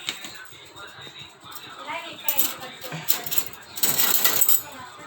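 A metal dish is set down and handled, giving a few bright clattering clinks and a rattle in the second half, close and fairly loud, with a voice talking nearby.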